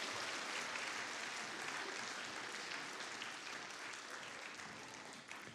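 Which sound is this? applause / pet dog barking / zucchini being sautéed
applause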